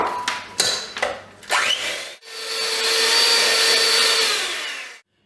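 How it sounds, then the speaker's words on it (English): A few knocks and clatters come first, then an electric whisk whirs steadily for about three seconds in a bowl of cheesecake mix, loud and close, and cuts off abruptly. "We're going to get the electric whisk into there now."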